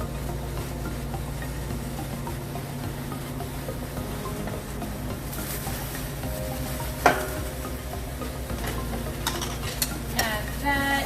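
Garlic shrimp pasta with fettuccine and Parmesan stirred in a pan, a steady low sizzle with soft scraping and a few sharper utensil clicks near the end, no talking over it.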